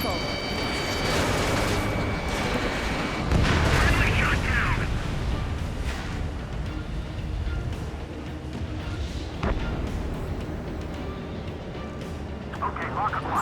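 Heavy gunfire and explosions from the video game Ace Combat 7, with booming blasts and rumbling impacts layered over continuous jet-combat noise, while voices speak over the action for most of the clip.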